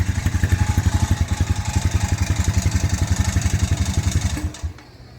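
A four-wheeler ATV engine running rough and shaking, its low pulsing idle loping unevenly and close up before it sputters and cuts out near the end.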